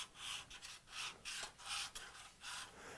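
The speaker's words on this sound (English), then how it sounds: "I'm just going to slide it on here, and I'm going to move my fingers around, trying to get each side, and I'm getting rid of that burr" Steel card scraper slid back and forth across a sharpening stone to remove the burr, giving about six rhythmic raspy scraping strokes with short pauses between them, close and fairly quiet.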